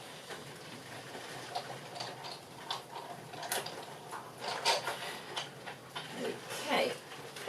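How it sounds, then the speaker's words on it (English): A hand-cranked manual die cutting machine pressing a paper gift bag, giving irregular ticking and clicking mechanical sounds that grow louder as it turns, fairly faint and close. "I'm just going to run this through my die cutting machine."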